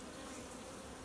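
Honey bees buzzing steadily around a hive just after a breeder queen has been installed, a dense, continuous close-up drone with no voices.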